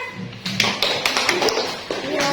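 A fifth-grade science class claps together in a classroom, with several sharp, uneven bursts of hand claps close by and loud, some louder than others, over a short stretch.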